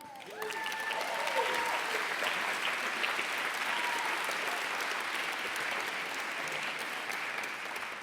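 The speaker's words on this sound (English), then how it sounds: "I'd like you all to give him a clap" Conference audience at an opening session in Vilamoura claps steadily after a brief voice, the applause rising quickly and holding as an even, full wash of hands until it tapers slightly at the end.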